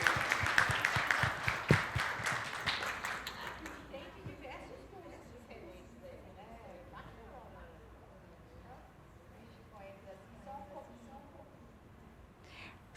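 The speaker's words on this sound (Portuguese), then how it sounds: "Uma salva de palmas para os meninos." A seated audience at a discussion circle on women's work breaks into loud, dense clapping for the men present. The applause swells at first, then fades into scattered claps and murmuring voices.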